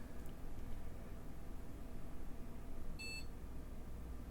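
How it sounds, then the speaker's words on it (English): A PC BIOS gives a single short, high beep during POST because no keyboard is connected, heard faintly about three seconds in over a quiet, steady hiss of fans. "Okay, that would be the no keyboard beep"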